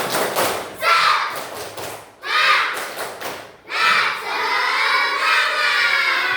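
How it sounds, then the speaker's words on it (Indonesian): A classroom of pupils doing a tepuk semangat clapping chant, with bursts of rhythmic claps and shouted voices in three surges separated by short pauses, loud and close. "Coba ibu mau minta tepuk semangat biar semangat."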